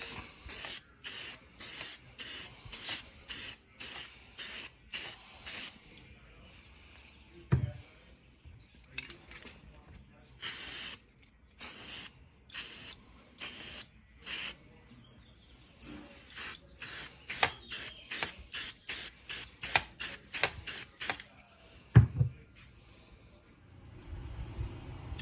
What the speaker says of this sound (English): we're just going to shoot it with some Krylon flat black paint and primer